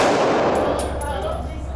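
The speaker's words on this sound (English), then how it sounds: "You could tell when a rifle's being shot versus a pistol." Rifle and pistol gunshots at an outdoor shooting range, heard as a loud, continuous rush of firing with a few sharp cracks standing out, close by with no speech.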